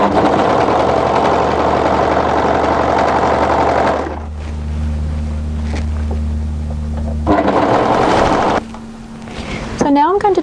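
A sewing machine stitches the inside mitered corners of a coat's hem with a steady mechanical whir, its pitch and intensity shifting between runs, close-up with no voices.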